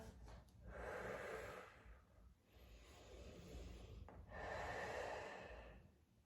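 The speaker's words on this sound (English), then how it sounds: "breathing deeply" Slow, deep breathing during a yoga shoulder stretch for handstand flexibility: three long, airy breaths heard up close, each swelling and fading, with no talking.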